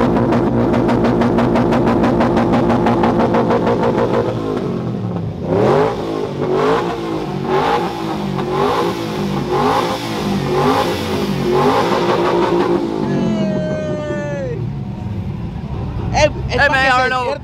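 A truck engine revs hard from cold, holding a loud sustained high rev at the limiter with bouncing pitch, then drops away as several people shout and talk over it outdoors at a car and truck event.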